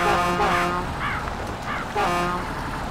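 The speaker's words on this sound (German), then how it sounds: "Ey, Hupe ist zu doll, ey." A vehicle horn in a driving video game sounds in long sustained blasts, loud and close, with shorter wavering tones between them.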